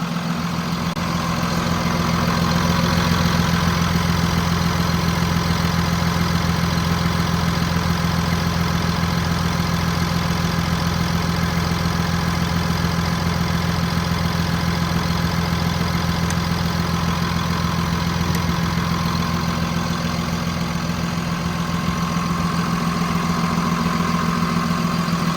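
A 2019 Kenworth T270 truck with a PX7 engine idles at close range while backing, a steady, loud drone with a strong low hum that barely changes.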